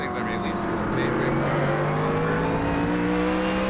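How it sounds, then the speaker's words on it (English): Ford Mustang race car engines roar steadily in the iRacing sim at Road America, a continuous droning engine note that stays loud and unbroken without any speech over it. "Can't hear you, the Mustangs in my ears."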